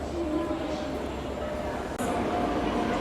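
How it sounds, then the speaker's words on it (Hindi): The Jhansi Pune Special train, hauled by a WAG9HC locomotive with ICF coaches, rolls into a station with a steady, close rumble and low clatter throughout. "फाइनली अपनी Jhansi Pune special train enter कर रही है"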